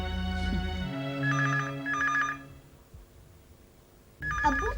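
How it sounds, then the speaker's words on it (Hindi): A telephone rings in two electronic bursts, pauses, then rings again, loud and close, over a low music bed. "अब्बू मैं फोन उठाती हूँ"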